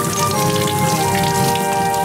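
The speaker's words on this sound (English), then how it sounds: "It's raining?" Steady rain falls in a dense, even patter that stays loud and continuous throughout, over a faint tonal hum.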